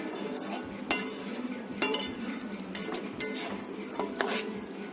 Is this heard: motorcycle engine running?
no